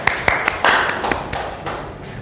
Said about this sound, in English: please give applause to our 4 teammates here